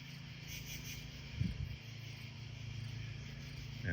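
A steady low insect drone hums throughout as bees swarm around a nest in a yard, with a brief louder burst of buzzing in the middle.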